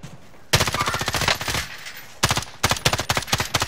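Automatic weapon fire in Call of Duty Warzone rattles out in loud, rapid bursts, a long stream of shots, a pause, then two more quick volleys, close and dominant.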